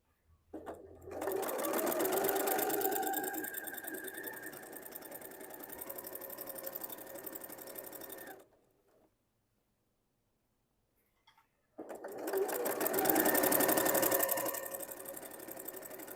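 A domestic sewing machine stitches quilt binding onto the back of a beginner's 16-patch table runner with a 1/4-inch seam, a steady close whirring run that stops for a few seconds of silence and then starts again.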